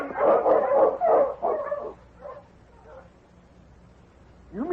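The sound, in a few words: sled dogs barking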